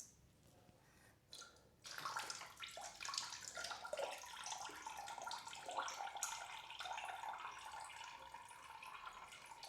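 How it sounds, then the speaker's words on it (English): Residual coolant spills from a Ducati Multistrada 1260S during dismantling for a desmo service, a soft, steady splashing trickle that starts suddenly after a quiet moment and keeps running evenly to the end. "Some residual coolant spills out."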